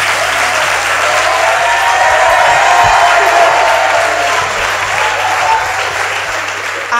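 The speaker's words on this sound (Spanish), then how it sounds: "Ana, no te han dado un aplauso así en tu puta vida, Ana." A live audience in Barcelona gives sustained, loud applause, dense clapping with a few scattered cheers and a brief voice in the mix.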